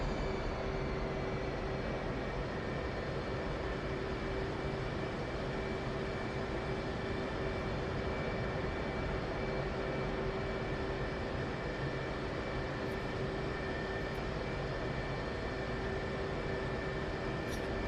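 Steady, dense engine drone of a warbird aircraft spooling up in the DCS flight sim, a constant loud roar with a fixed whine held unchanged throughout, no talk.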